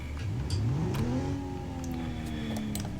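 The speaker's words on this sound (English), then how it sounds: "Not that loud of an engine," An ETK 800 sedan engine in BeamNG revs up smoothly, pitch climbing steadily and then holding, fairly quiet and unaccompanied by talk.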